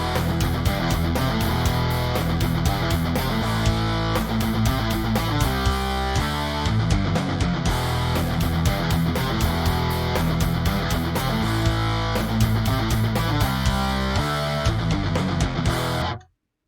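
A full heavy metal mix plays with distorted, palm-muted guitars, driving drums and bass, dense and loud throughout before cutting off abruptly at the end.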